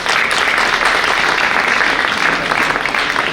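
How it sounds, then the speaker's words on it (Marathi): Dense, loud audience applause at a lecture on the Dnyaneshwari, many hands clapping in a steady continuous roar for several seconds without a break. "त्याची एक दाद देण्यासाठी तुम्ही टाळ्या करा."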